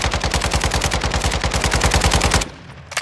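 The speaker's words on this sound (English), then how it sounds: "Shoot his ass." Rapid sustained automatic gunfire from a video game shooter, loud and continuous bursts for over two seconds before cutting off, with one brief shot near the end.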